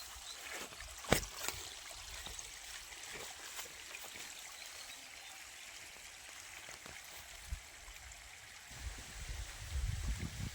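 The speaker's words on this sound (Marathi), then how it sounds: "आता पाणी सोडलेलं आहे." Irrigation water released into a sugarcane field makes a faint, continuous trickling flow, with a few soft splashes and knocks near the start and a low rumble toward the end.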